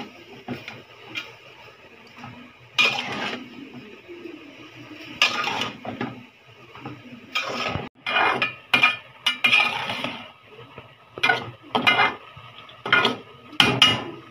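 A lid goes onto a cooking pot on a stove and a spoon stirs onion inside it, making scattered close metallic clanks, scrapes and clinks in irregular bursts over quiet background, with no talk.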